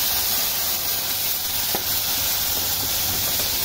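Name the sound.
onion paste sizzling in pan for koi fish bhuna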